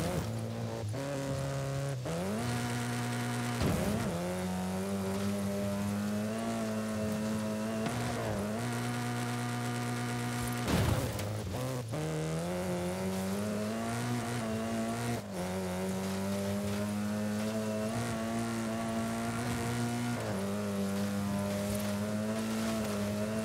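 Video game engine of a 1992 Ford Escort RS Cosworth in Forza Horizon 5, revving loud and continuously as it climbs through the gears, with steady tonal whine and brief shift dips, no voices.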